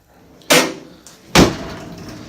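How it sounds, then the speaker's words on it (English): A Studebaker pickup truck door thumps shut twice in quick succession, loud and close, with a faint rattle between the two heavy hits. "Now the door opens and closes."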